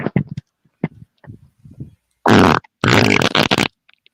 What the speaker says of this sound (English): No more fart!